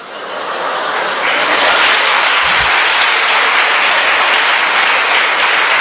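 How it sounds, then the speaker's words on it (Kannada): An audience at a talk on education in Hospet breaks into loud, sustained clapping that swells within the first second and holds steady, with no speech over it. "ಚಪ್ಪಾಳೆ"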